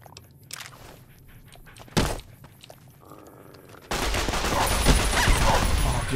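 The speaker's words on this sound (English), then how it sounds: "That auto fire is real." Automatic weapon fire in the game Fallout New Vegas with the Old World Blues mod: a sharp shot or two, then a dense, continuous burst of rapid gunfire that fills the last seconds, loud and alone.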